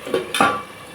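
A lid placed over a cooking pot of tomatoes, potatoes and peas, two quick metallic clinks close by, the second ringing briefly.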